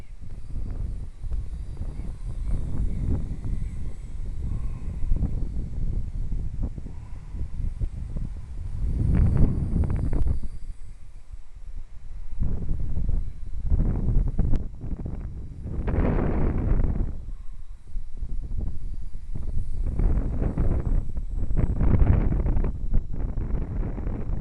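Outdoor wind of about 7 to 11 mph buffets the microphone in uneven gusts, producing a low, rumbling roar that swells and fades during a small quadcopter flight.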